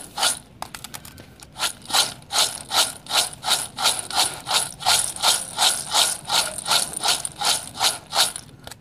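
Fried kara boondi, a crunchy gram-flour snack, rattles steadily as it is shaken with spices in a container, giving about twenty rhythmic, evenly spaced loud shakes with no talking.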